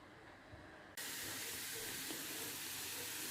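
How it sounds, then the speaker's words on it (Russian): Chopped onion and carrot fry in a pan, a loud, even sizzle that bursts in abruptly after a quieter second and holds steady throughout. "Обжариваю лук с морковочкой."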